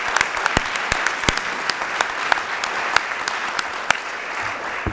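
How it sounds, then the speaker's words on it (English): A meeting audience of public health officials claps for CDC colleagues in a conference room, a sustained round of applause with sharp individual claps standing out near the microphone. "So I think just a quick round of applause again for our CDC colleagues."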